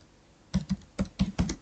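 Code being typed on a computer keyboard, heard as a quick run of about seven close, crisp key clicks after a short quiet pause, with no talking.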